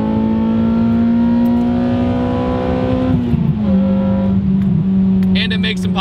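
An Acura RSX Type S engine revs hard toward its 8,500 RPM redline, a loud rising whine that drops off sharply as the throttle lifts, followed by a few faint pops and crackles.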